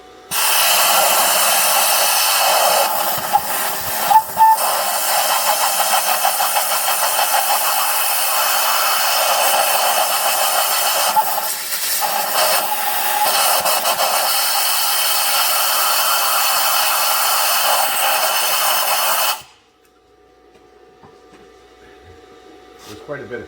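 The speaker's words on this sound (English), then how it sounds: "I'm going to use some compressed air to blow into that spark plug hole" Compressed air blasts steadily into the number 2 spark plug hole of a 2007 Ford F150 4.6 V8 flooded with antifreeze, a loud continuous hiss lasting about nineteen seconds with brief dips before cutting off abruptly.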